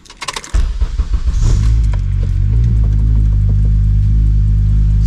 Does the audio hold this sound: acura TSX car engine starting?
yes